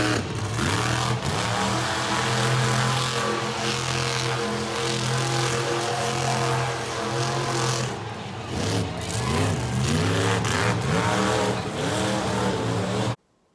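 A monster truck engine roars continuously and loudly at close range, its pitch rising and falling as it revs, before cutting off abruptly at the end.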